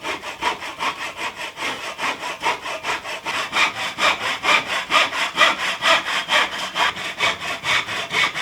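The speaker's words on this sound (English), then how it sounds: "Also got to do a bit of hand sawing." Hand saw cutting wooden battens for a pantry build, a steady back-and-forth rasp of fast, even strokes, close and fairly loud throughout with no talking.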